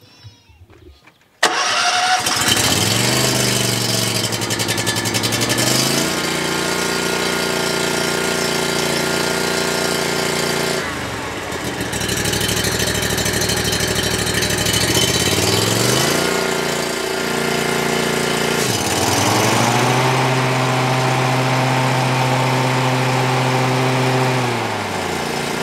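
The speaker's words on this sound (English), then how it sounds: "Now let's test it on the mower," A lawn mower engine pulls to a start and then runs loudly and steadily near the listener, holding a droning idle with a few brief dips and surges in speed.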